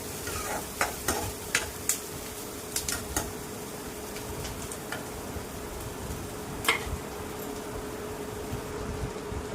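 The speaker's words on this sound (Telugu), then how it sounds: "ఆనియన్స్ లైట్ బ్రౌనిష్ కలర్ వచ్చే వరకు వేయించుకున్నాము" Two medium onions, finely chopped, fry in a pan toward light brown under a steady soft sizzle, with a spoon stirring in a run of sharp, evenly spaced scraping clicks early on and a few more later.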